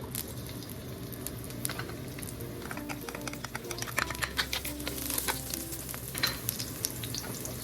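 Garlic sizzles in hot cooking oil in a pan for chicken bopis, a steady crackling fry with scattered pops and stirring clicks, close and fairly quiet throughout, with no talk.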